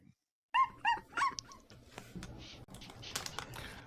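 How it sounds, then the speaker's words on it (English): A dog gives three short, sharp barks close by, followed by a scatter of clicks and soft background noise, with a voice speaking briefly. "That's my dog."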